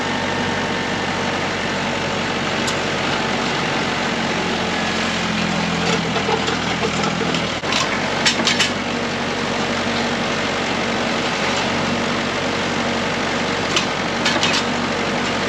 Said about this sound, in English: if I just keep pounding that auger on the hole and and digging, eventually it'll break through that and dig